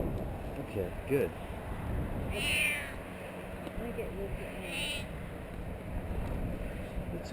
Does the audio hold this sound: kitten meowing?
yes